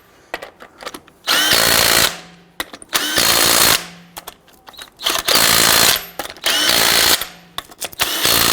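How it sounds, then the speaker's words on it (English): Lug nuts on a 2007-2014 Cadillac Escalade wheel are driven down with a power tool in four loud, roughly one-second bursts, separated by short pauses with faint clicks and handling noise. "Just getting torqued down your wheels to 140 foot-pounds"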